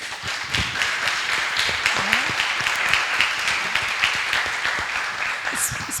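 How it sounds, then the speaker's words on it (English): An audience claps at the close of a talk, steady dense applause with scattered sharp individual claps that holds at even strength throughout. "And a warm applause again."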